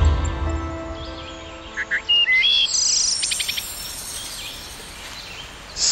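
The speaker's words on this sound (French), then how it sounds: "On en retrouve plusieurs espèces qui sont principalement insectivores et qu'on regroupe sous l'appellation de passereaux." Small insectivorous passerine songbirds sing during spring migration, clear chirps and quick high trills ringing out close and distinct over a quiet background hum, with no talking.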